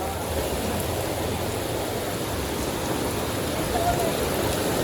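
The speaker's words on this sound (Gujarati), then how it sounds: "એકદમ અંધરાધાર વરસાદ પેડો ભાઈ પલાળી દીધા છે હો અમને" Heavy downpour soaking a street in Surat, a dense steady hiss of rain running the whole time with a voice talking faintly under it.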